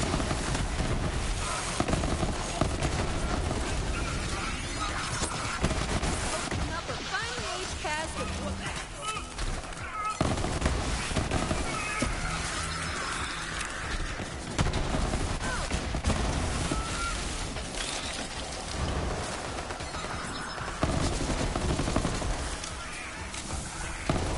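Rapid, dense pistol fire from the Hornet legendary in Borderlands 3 crackles continuously under a busy battle mix, with sharp repeated shots and blasts throughout and a voice talking over it.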